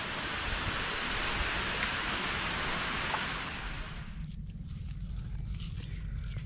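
Steady heavy rain drums on a hut roof deep in a forest, a dense close hiss that thins abruptly after about four seconds to lighter scattered dripping.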